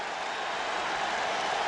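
Stadium crowd at a Jacksonville Jaguars at Carolina Panthers NFL football game in 2003 sends up a steady, loud roar of cheering throughout, a broad continuous wash of noise with no clear pauses.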